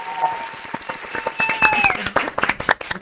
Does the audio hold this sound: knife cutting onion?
no